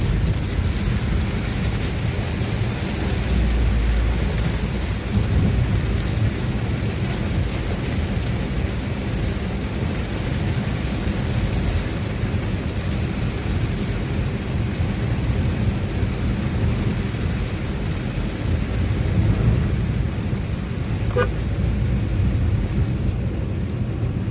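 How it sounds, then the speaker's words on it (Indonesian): Heavy rain pours down in a dense, unbroken roar, loud and steady with a deep rumbling undertone throughout. "Kondisi hujan lebat"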